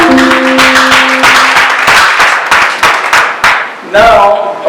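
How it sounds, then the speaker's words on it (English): A church congregation claps during a service, loud bursts of applause with distinct sharp claps, while a sustained musical tone or voice runs underneath at the start and returns near the end. "A round of applause for Jesus in his life."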